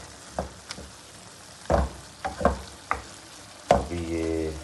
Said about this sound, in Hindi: इसको हिला लेते हैं, चम्मच मार देते हैं इसके अंदर